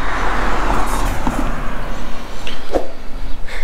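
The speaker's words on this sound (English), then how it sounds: "Car." A car passes on a busy street, a loud steady roadway rush with engine rumble that swells and fades, ending with lighter traffic sounds.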